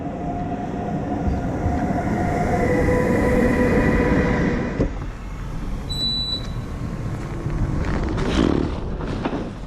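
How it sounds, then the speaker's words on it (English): A train in Norway rumbles steadily nearby, a low continuous roar of wheels on rails with faint squeals and clatter rising near the end. "I'm going to get on the train"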